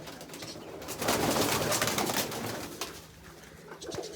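Pigeons coo in soft, low bursts amid a rustling, shuffling background, with a louder stretch in the middle.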